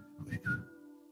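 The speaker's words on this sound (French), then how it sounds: "Je peux faire mon sifflet. Le sifflet est facile." A person whistles to call pigeons: a short, close two-note whistle heard on its own, followed by a brief quiet tail.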